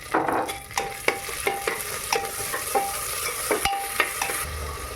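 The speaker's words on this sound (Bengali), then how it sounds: "এবার দিয়ে দেবো পেঁয়াজ কুচি, এরপরে দিয়ে দেবো আদা রসুন বাটা," Chopped onion and ginger-garlic paste frying in a pan, a steady close sizzle broken by repeated sharp scrapes and taps of a spatula stirring at an even rhythm, with no voices.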